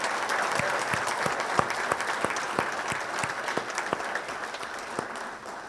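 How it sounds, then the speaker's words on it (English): An audience at a Chain of Survival event claps steadily for the responders who saved a life, a continuous mid-level applause with distinct individual claps throughout. "give these gentlemen a round of applause and say thank you for saving a life"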